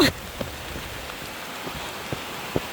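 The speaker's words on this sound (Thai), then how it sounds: "โอ้ยฝนตกเยอะมากเลย" Heavy rain pours steadily on an outdoor surface, a dense continuous hiss with a few sharper drops and taps standing out now and then.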